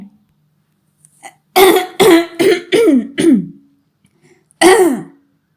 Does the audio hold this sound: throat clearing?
yes